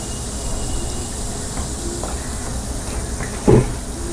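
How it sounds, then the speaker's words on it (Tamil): Steady hissing and low bubbling of water heating in a pan for rava potato cutlets, with a brief louder bump near the end. "இப்போ தண்ணி கொதிக்க ஆரம்பிச்சிருச்சு."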